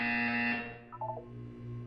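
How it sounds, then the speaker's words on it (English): A harsh electronic buzzer from the video game Portal 2 sounds in a sustained tone that cuts off, followed by quieter short beeping tones and a low hum, with no talk. "When you hear the buzzer, look down at the floor."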